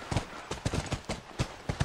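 Horse hooves clip-clop in The Last of Us video game, a brisk, evenly spaced series of soft clops heard fairly close.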